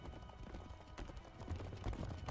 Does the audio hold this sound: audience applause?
no